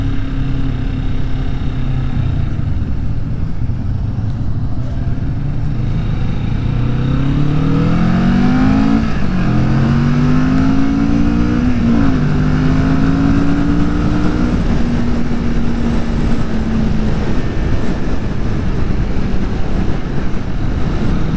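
A 2020 Kawasaki Vulcan S motorcycle engine running steadily during a ride, its low drone rising and falling in pitch as it revs through gears, loud and close over constant wind rush, with no talking.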